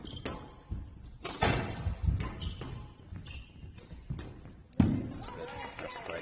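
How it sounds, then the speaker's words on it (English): A squash ball in a women's world team championship match between England and Canada gives scattered hollow thuds and court knocks under steady commentary, with one sharper hit near the end. "That's a great shot from SJ."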